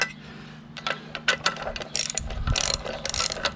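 A ratchet wrench works loose a 5/8 bolt on a boat outboard motor, giving bursts of quick metallic clicks close by, growing busier toward the end.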